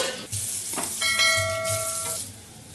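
Capsicum, cabbage and carrot stir-frying in a pan give a steady close sizzle and hiss, with a few brief scraping stirs and a ringing metallic tone partway through; no one speaks.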